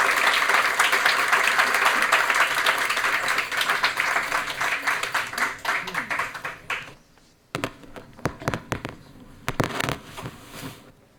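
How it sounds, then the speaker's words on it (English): Audience applause for conference panelists at a journalism award ceremony, a dense steady clapping that fills the room for several seconds, then thins into scattered claps and fades out. "I'd like everyone just to give the panelists a quick round of applause"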